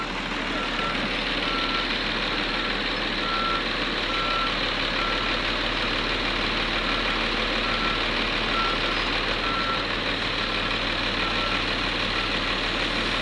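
A truck loaded with plates reverses with its engine idling, while a faint, regular beeping repeats evenly over the steady low rumble.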